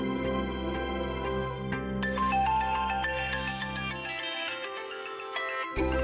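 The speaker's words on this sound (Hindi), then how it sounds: "अभी नाम लिया और फोन आ गया" A phone ringtone plays for an incoming call in a Hindi TV drama scene, with a repeating melodic pattern of bright electronic tones over a softer musical background.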